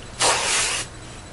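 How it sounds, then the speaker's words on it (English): A single burst of hairspray from an aerosol can sprayed onto brushed-out loose waves, a steady bright hiss lasting well under a second, close and clear with no talking. "you just want to spray it again"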